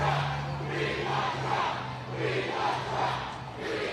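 Large outdoor crowd at a Trump rally in Philadelphia on a hot day, a steady roar of many voices swelling in broad waves throughout, with a low constant hum underneath.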